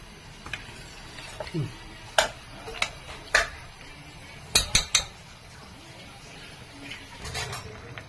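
A spoon stirs chana dal and ridge gourd curry in a metal pot, making sharp clinks and taps at irregular intervals, including a quick cluster of three, over a quiet background.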